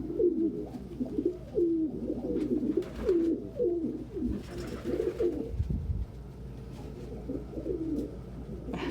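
Pigeons or doves coo repeatedly at close range, soft low rolling calls overlapping in a steady chorus with brief pauses, plus a faint thump partway through.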